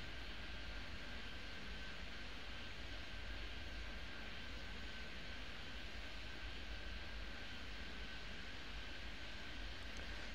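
Airplane in the airport game Airport Madness 3D, a steady broadband engine roar with a faint high whine, constant and unchanging, heard alone.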